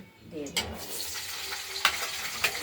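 Potatoes fry in a pan with bay leaf, dried red chili and cumin, giving a steady close sizzle broken by a few sharp stirring scrapes.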